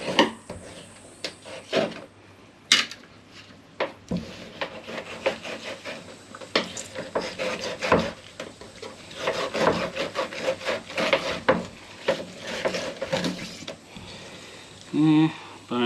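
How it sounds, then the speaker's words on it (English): A cod fillet is knocked and rubbed against a wooden board to force its bones out before skinning. The dull, irregular thumps and scrapes come up close, with voices heard at moments. "I knock the bones out before I skin it."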